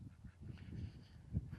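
A duck at a home garage gives a few low, close quacks and honks in short bursts, one louder call near the end, with no speech over it.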